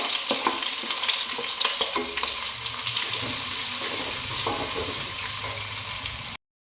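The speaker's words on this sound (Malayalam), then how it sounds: "അതിലേക്ക് നമുക്ക് ഓയിൽ ആഡ് ചെയ്യാം ഞാനിവിടെ ഫിഷ് ഫ്രൈ ചെയ്ത ഓയിൽ തന്നെയാണ് എടുക്കുന്നത് കേട്ടോ അടുത്തതായി ഇതിലേക്ക് സവോള ആഡ് ചെയ്യാം" Sliced onions frying in reused fish-frying oil in a pan, a steady close sizzle with occasional stirring scrapes and no talking.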